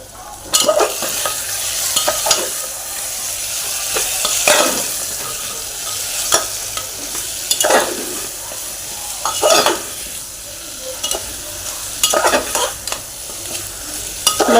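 Brinjal and potato roast in a pan with goda masala and salt, a steady sizzle running throughout while a spoon scrapes and stirs at irregular intervals, close and fairly loud.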